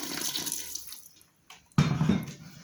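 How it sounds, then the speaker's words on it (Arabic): Hot water pouring from a kettle into a cooking pot of Moroccan harira soup, a steady close trickle that fades, pauses briefly, then returns as a louder splashing pour. "ندير غير شويه ديال الماء سخون"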